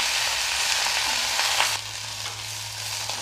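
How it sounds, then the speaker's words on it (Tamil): Thoothuvalai leaves being sautéed in a pan: a steady, close sizzle and frying crackle with light stirring scrapes, continuing throughout. "நல்லா வதக்கிக்கலாம்."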